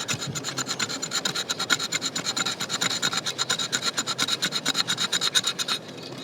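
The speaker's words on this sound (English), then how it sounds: "I'm holding it like this, trying to get a little leverage on it and scraping back towards myself to get" The spine of a Cold Steel Pipe Hawk scrapes fat wood in quick, rhythmic rasping strokes, a close and steady scratching that runs for several seconds before stopping abruptly.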